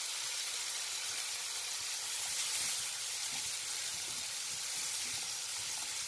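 Three chopped tomatoes with salt sizzle in a frying pan while the egg street-food dish anda ghotala is made, a steady close-up hiss throughout with no talking.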